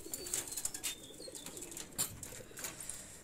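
Two golden pigeon chicks, young birds of a tumbler flying breed, coo softly and keep on, with light chirps and brief wing flutters close by.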